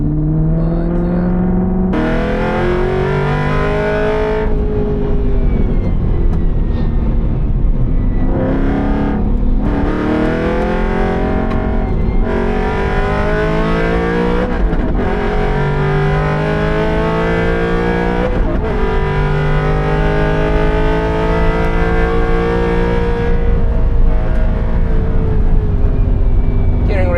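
A track-built Aston Martin Vantage V8 drives hard around the Nürburgring, its loud engine revving up through gears with repeated rising sweeps and brief dips at upshifts, heard close from inside the car, with a voice speaking over it at times.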